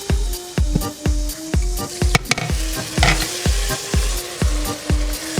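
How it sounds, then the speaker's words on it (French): Onions sautéing with mustard in a pot for Senegalese thieb au poisson, a steady close sizzle broken by a regular series of sharp metallic stirring knocks against the pot. "On laisse revenir 5 minutes, le temps que les oignons cuisent."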